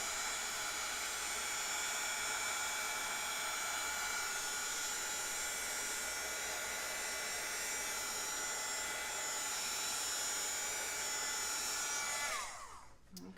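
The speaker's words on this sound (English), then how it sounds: "So I'm just going to quickly hit this with a heat tool." A craft heat tool blows steadily over freshly stamped ink on paper, its fan-and-heater whir a continuous close drone that cuts off near the end.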